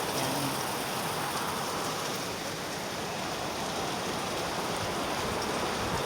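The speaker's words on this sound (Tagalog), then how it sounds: "Thank you sa ulan talaga." Steady, dense rain falls outdoors, a loud continuous hiss of drops hitting surfaces with no breaks or voices.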